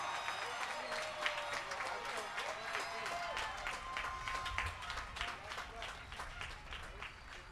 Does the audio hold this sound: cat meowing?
no